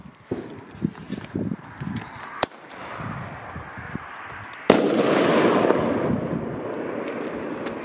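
A powerful firecracker bursts with one sharp, loud bang during New Year's Eve celebrations, followed by a sustained rumbling roar of distant fireworks. Earlier, scattered smaller pops and crackles sound alongside footsteps outdoors.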